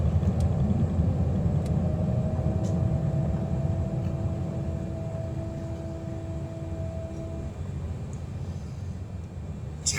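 Small airplane taxiing toward the gate at Troyes airfield, its engine a steady loud droning rumble with a sustained tone throughout, close and continuous, easing slightly toward the end.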